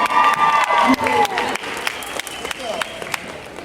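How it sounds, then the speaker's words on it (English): Convention audience applauds and cheers for a cosplayer, with loud clapping and whoops at first, then thinning to scattered claps and sharp individual hand slaps. "Everybody give her a round of applause."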